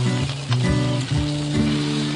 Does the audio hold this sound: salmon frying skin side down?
yes